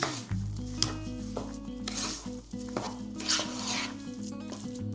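Lentil patty mixture and roasted sauce being stirred together in a hot pan, giving a steady close sizzle with scraping stir strokes under background music.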